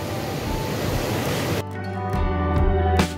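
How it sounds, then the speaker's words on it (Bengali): A swift small mountain stream rushing on a high Himalayan road near Nathula in Sikkim, a steady broadband roar of fast water throughout that dips in texture midway and swells again toward the end. "এই রাস্তায় পার করতে হবে একটি খরস্রোতা ছোট্ট পাহাড়ি ঝর্ণা"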